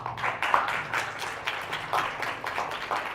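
An audience at a lecture applauds, with dense, steady clapping that carries on throughout at a moderate, roomy distance.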